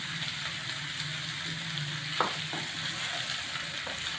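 Pumpkin being stir-fried in a pan gives a soft, continuous sizzle with faint scraping from stirring and a light clink midway, fairly quiet and without speech.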